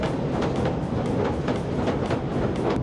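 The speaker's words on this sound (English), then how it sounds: "That train was packed with people." A packed passenger train rolls past nearby in Southend, a steady loud rumble with rhythmic clicking of wheels over rail joints throughout.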